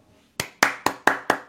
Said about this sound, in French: Bravo, je m'applaudis, parce que c'est mon projet.